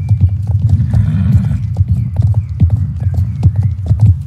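Horse hooves clip-clop steadily in the video game Star Stable Online, close and rhythmic, with a whinny-like call mixed in.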